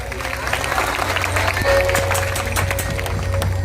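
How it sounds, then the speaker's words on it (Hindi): Crowd clapping at a village youth-club stage show with benjo and dhumal band music, steady dense applause over a loud amplified musical drone and bass, close and continuous. "अब एक बार ताली बजा दो"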